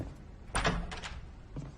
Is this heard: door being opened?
yes